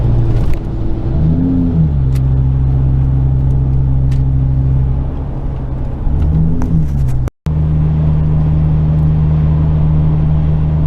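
Ford V10 6.8 engine in a lifted Econoline camper van climbing a grade, a loud, steady low droning hum with a couple of rising and falling swells in pitch, heard up close from inside the cabin.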